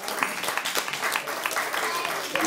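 Audience clapping at a parrot show at Hamat Gader, a steady burst of lively applause from a gathered crowd, with a voice speaking over it.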